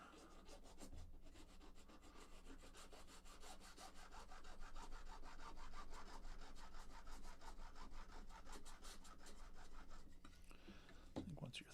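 A fine-tooth hand saw cuts through soft balsa-like wood in a steady back-and-forth rasp, close and continuous for the whole stretch, with no talking.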